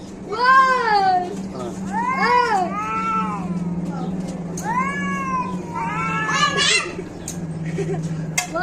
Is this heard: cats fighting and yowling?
yes